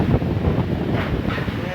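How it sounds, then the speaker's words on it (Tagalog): Strong storm wind buffets the microphone at a house construction site, a continuous low roaring rush with gusty swells, over a brief moment. "ang lakas ng hangin"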